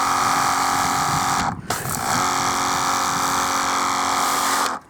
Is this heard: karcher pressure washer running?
yes